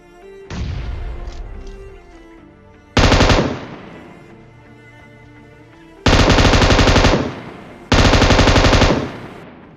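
M249 machine gun fire in PUBG Mobile: loud sustained automatic bursts, three long volleys of rapid shots, each lasting about a second, separated by quieter stretches with an earlier lighter burst.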